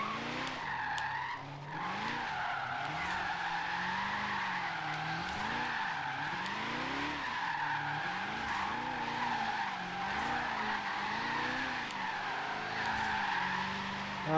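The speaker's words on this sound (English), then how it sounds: "Looks like we're finally somewhat drifting with this car." A 1932 Ford drifting in Forza Horizon 3 gives a steady engine drone under a wavering, sustained tire squeal that rises and falls repeatedly as the car slides, loud and continuous throughout.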